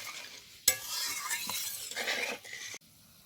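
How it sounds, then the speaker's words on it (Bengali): Fish curry broth with fish roe bubbling and being stirred in a pan, a sharp clink at the start, then steady hissing, simmering and scraping close by, ending abruptly. "এই দেখো, ঝোলটা খুব ভালোভাবে ফুটে গেছে।"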